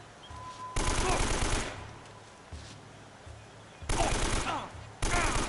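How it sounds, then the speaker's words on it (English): Gunfire in the Uncharted video game, loud bursts of automatic fire broken by short pauses, with one long volley, a brief shot, then two more sharp bursts. "It takes too many bullets to kill these people."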